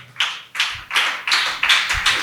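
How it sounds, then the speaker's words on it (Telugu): A church congregation claps in unison during a Telugu sermon, about six loud, evenly spaced bursts of massed hand claps with no voices. "అందరూ చప్పట్లు కొట్టి దేవుని నామానికి కనబరుద్దాం."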